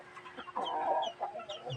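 Chickens clucking during feeding, with a short burst of clucks in the middle and softer scattered calls around it, close by and fairly quiet.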